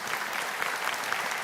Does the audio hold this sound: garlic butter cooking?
no